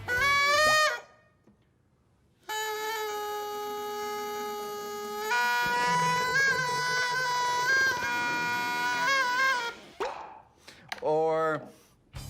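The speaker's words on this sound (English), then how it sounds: "I like this one. I call it the loud bubble." A large bubble of dish soap and water swells with a loud, sustained, buzzing tonal squeal that shifts in pitch for several seconds, opening and closing with shorter bursts of the same sound.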